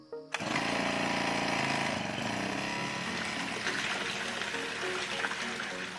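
A small Honda water pump engine starts and runs steadily nearby at an off-grid home, pumping water from a quarry up to a reservoir, a continuous buzzing drone with no talk over it.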